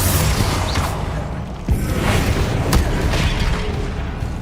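A Bombarda spell explodes in the Hogwarts Legacy video game, a dense rumbling boom with sharp cracks amid continuous battle noise.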